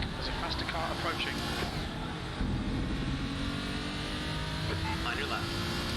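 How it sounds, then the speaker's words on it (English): A faster race car approaches in a racing game, its engine whining and revving over the steady drone of the player's car, with a voice talking over the engines. "Alright Zach, there's a faster car approaching."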